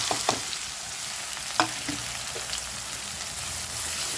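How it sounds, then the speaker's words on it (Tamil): Chopped garlic and onion hit hot oil after popped mustard seeds, giving a steady crackling sizzle and a few light stirring clicks early on, close and with no talking. "இப்போ வந்து நம்ம வெட்டி வச்சுருக்க இந்த பூண்டும் வெங்காயத்தையும் சேர்த்துடலாம்."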